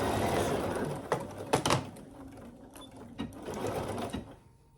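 A domestic sewing machine stitches a fabric pouch with a steady, close mechanical whir, broken by a few sharp clunks and pauses before it winds down at the end.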